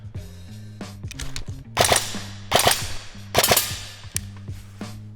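Handgun fired live in a shooting drill: a few sharp, loud gunshots in quick bursts stand out over a steady low electrical hum and clicking, with no talking.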